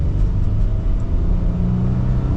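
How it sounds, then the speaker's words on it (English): Cabin of a 2025 Nissan Frontier Pro-4X pickup with a V6 as it pulls away, a steady close low engine rumble that swells slightly with throttle throughout. "So setting off now in the Pro-4X."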